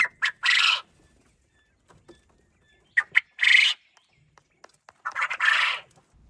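Several short, bright quail calls come in separate bursts with quiet gaps between, fairly close and clear, with occasional small clicks and rustles.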